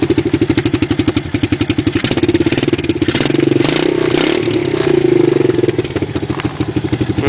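A quad ATV engine runs loud and close with a rapid, thumping idle, then revs up and down several times before settling back to its chugging beat.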